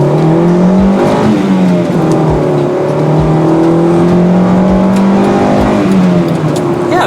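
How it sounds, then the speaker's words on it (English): A 1999 Acura Integra engine roars under full throttle, its pitch climbing steadily through the gears with brief dips between, loud and close from inside the car. "Let's go up here to this intersection and floor it."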